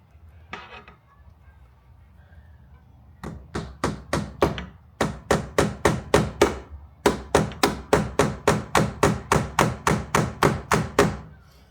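Rapid, regular hammer taps on carpet tacks near glass on a Jaguar MKII ring out close by, starting sparse and building into a long steady series of sharp blows.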